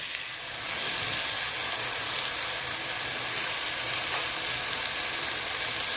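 Fenugreek seeds and other ingredients sauté in hot oil in a pan, giving a steady, dense sizzle that runs unbroken and fairly loud with no talk over it.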